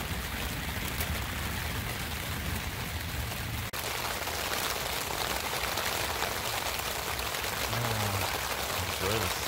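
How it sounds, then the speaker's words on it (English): Steady rain drums on a double-fabric (DCF) hot tent in a dense, continuous hiss, close and even throughout, with a brief dip near the middle and a faint low tone toward the end. "Enjoy the sound of that rain."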